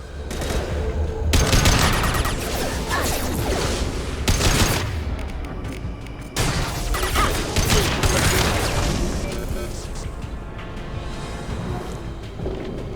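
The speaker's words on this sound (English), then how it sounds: "Firing a high impact shot." Dense bursts of gunfire and heavy impacts from combat in Mass Effect 2 on Insanity difficulty, loud sustained fusillades broken by brief pauses, with mechanical clatter between volleys.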